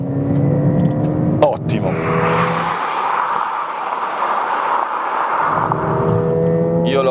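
A Ford Fiesta ST 200 engine swells into a loud, broad roar as the car drives, sustained for a few seconds between short stretches of someone talking.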